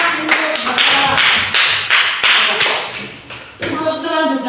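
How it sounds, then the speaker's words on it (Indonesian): Classroom applause for a student during a religious studies lesson, a short bout of steady rhythmic clapping with strong regular beats from a group of hands close by, lasting a few seconds. "tepuk tangan untuk Bapak"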